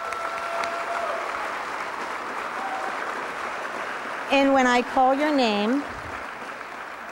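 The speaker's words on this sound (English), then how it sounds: "Let's give them a round of applause." A school audience at an eighth grade recognition ceremony gives a steady round of applause for the class leadership, and a speaker's voice comes in over the clapping near the end.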